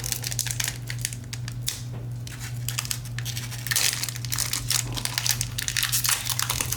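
Batman Hush trading card packs being torn open, their foil wrappers crinkling and crackling loudly and close up in continuous bursts with short pauses, over a low steady hum.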